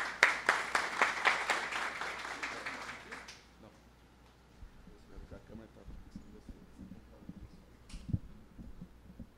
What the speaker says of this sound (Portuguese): Uma salva de palmas para vocês, Alex Melotto.